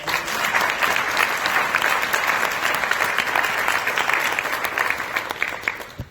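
Audience applause for a panel at a joint professional meeting, a steady dense clapping that holds evenly loud for about six seconds and then stops abruptly at the end.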